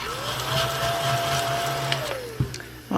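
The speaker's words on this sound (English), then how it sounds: "Vacuum." A household vacuum cleaner motor whines at a steady pitch, then winds down as it is switched off, followed by a couple of sharp clunks.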